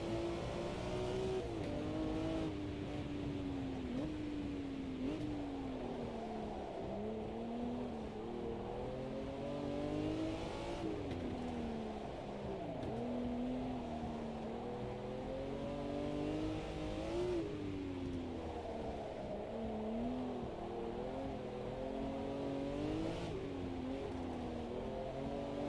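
A 1936 Delage 15S8 racing car in a racing video game at Fuji, its engine revving loud and close throughout, rising and falling repeatedly as the throttle is fed in and lifted, with brief shifts between.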